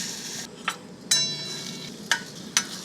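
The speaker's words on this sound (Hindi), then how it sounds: "इसे हम अच्छे से फ्राई कर देंगे। पकने तक इसे फ्राई करेंगे।" Fresh turmeric frying in ghee in a kadhai gives a low soft sizzle, broken by several sharp clinks and scrapes of a spoon against the pan, close up with no voices.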